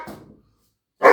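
A small pet dog gives two loud, close barks, a short fading yap followed after a brief pause by one sharp, sudden bark.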